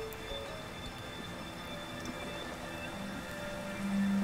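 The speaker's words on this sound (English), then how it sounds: "Can I stop the rain from falling?" Rain falls in the video game Projection: First Light, a soft steady patter under ambient tones, with a low sustained hum rising near the end.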